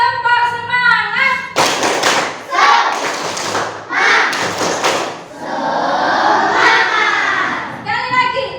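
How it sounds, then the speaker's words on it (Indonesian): A classroom of pupils performs the rhythmic spirit clap, tepuk semangat, with loud bursts of patterned clapping and chanting voices alternating with short spoken cues. "Sekarang tepuk semangat."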